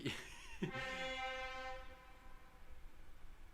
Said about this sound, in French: ça klaxonne sur le périph'